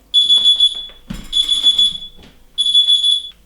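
A smoke alarm beeps in loud, shrill bursts, pausing briefly before sounding again, with some background noise and clatter in between.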